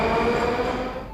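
A Moscow metro train pulls out of Prospekt Mira station on the Circle Line, a steady loud rumble of wheels and motors with a faint high whine, heard from inside the carriage.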